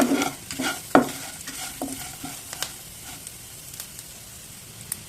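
Spices such as turmeric, salt and chili powder fry in a pan on low heat, with several close scraping stirs early on and then a quieter, steady crackling sizzle.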